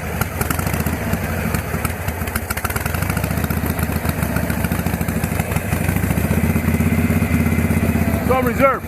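A 1962 Harley panhead chopper, running on reserve and off the choke, idles with a loud, lumpy, clattering beat up close, its rhythm pulsing steadily throughout.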